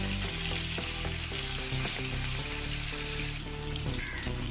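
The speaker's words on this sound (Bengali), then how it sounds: "মাছগুলোকে আমি একটু এপি ওপিট করে ভালো করে লাল লাল করেই ভেজে নেব" Rohu fish pieces frying in mustard oil produce a loud, dense, unbroken sizzle close up, with a faint low steady hum running underneath.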